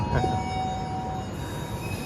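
Kaligung passenger train pulling out of an Indonesian station, a steady loud rolling rumble of wheels on rails with a thin metallic squeal tone running through it, continuous throughout.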